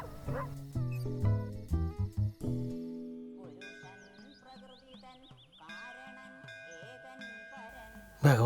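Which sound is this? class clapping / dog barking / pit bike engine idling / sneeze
dog barking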